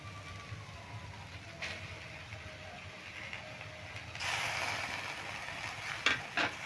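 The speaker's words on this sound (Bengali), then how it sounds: "নুন আর হলুদটা দিয়ে নেড়ে চেড়ে নিচ্ছি" Onion and potato frying with salt and turmeric, stirred in a pan: faint scraping and ticking at first, then a louder sizzle with a few sharper scrapes near the end.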